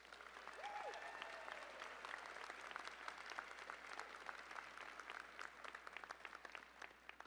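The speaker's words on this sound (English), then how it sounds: "I invite you to please recognize all of them right now with a rousing round of applause" An audience at a law school commencement ceremony gives a sustained round of applause, dense clapping that is fairly distant and soft, with a faint voice briefly audible early on.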